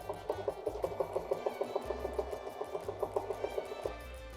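A sewing machine stitches a tree branch design onto a quilt, its needle beating in a steady rapid rhythm close up, pausing briefly near the middle before running on again with no voices.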